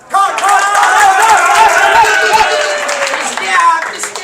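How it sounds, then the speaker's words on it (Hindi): A crowd claps for the judges seated at an event, a loud, sustained burst of hands mixed with raised, overlapping voices. "इनके लिए भी तालियां"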